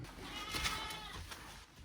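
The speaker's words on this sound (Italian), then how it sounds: "Ci deve essere una pecora da qualche parte." A sheep bleats somewhere nearby in a Moroccan setting, a wavering, shaky cry of moderate loudness heard alone over faint background noise.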